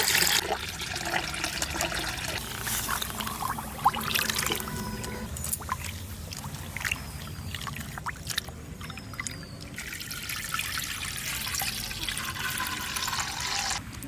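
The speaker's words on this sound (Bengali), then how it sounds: "ভাত বসানোর জন্য জল দিচ্ছি" Water pours steadily into a cooking pot holding broken rice, a continuous close splashing trickle that runs alone for the whole stretch with small shifts in flow.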